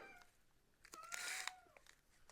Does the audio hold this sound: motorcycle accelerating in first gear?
no